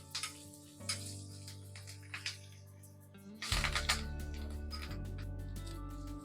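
Dry red chillies and curry leaves hit hot oil for a kadhi tempering, giving a sudden burst of sizzling that settles into a steady crackle under tonal background music.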